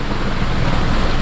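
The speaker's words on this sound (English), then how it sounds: "With this wind, it is a little uncomfortable out here." Strong wind gusting across a New Jersey pond on a cold, overcast day, a loud, steady roar buffeting the microphone without any voices.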